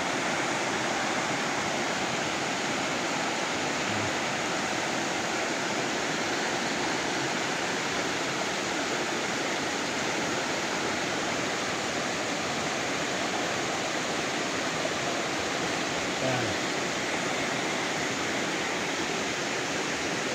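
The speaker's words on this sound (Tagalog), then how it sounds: "Wakas-was ng tubig ang naririnig nyo." Water rushes continuously near Mount Isarog, a dense, steady broadband roar like a stream or small waterfall, close and unbroken with no voices.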